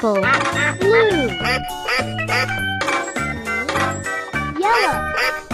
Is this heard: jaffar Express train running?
no